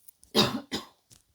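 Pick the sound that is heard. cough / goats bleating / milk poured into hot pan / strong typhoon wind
cough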